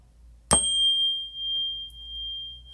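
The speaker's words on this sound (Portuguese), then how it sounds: "Então começa com o sino." A meditation bell is struck once, a sharp metallic strike followed by a clear, pure tone that rings on and slowly fades in a quiet room.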